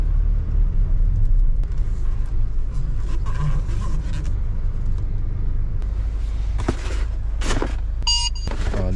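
A Mercedes Vito van drives through city streets, a steady low engine and road rumble running throughout with a few sharper clatters and bumps near the end.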